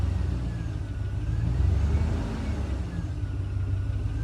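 A pickup truck engine idles with a low, uneven rumble, steady and close throughout, slightly surging midway.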